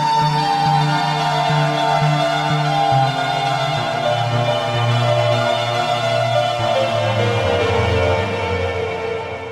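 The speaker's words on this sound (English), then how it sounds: "And I'm blending that together with a synthesizer sample" A synthesizer sample layer in Studio One Pro plays a dense sustained chord with shifting low notes and bright overtones, steady and loud throughout, with no voices.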